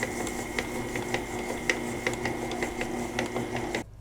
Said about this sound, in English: since I've got my stand mixer out here, I'm going to let it mix it just a little bit